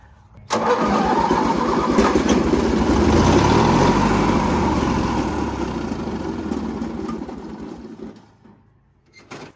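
The 18HP engine of an MTD Yard Man hydrostatic riding mower, a long-unused barn find, cranks and catches, running loud and rough for several seconds before sputtering down and dying.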